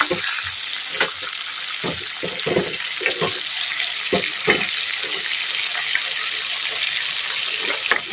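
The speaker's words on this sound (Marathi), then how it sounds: "तेलामध्ये छान फ्राय करून घ्यायचे व्यवस्थित छान तळून घ्यायचे" Bitter gourd pieces frying in hot oil in a home kitchen, a continuous bright sizzle broken by repeated stirring clatters and scrapes, close and fairly loud.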